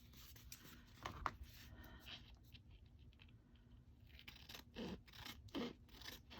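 Scissors cutting around a sewn fabric tag, giving quiet close-up snips and scraping strokes, with a couple of sharper cuts early and more near the end.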